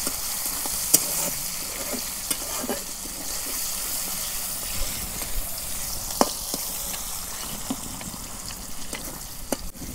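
A vegetable curry sizzles in hot mustard oil with chopped onions, a steady frying crackle broken by sharp clicks and scrapes of stirring, moderately close.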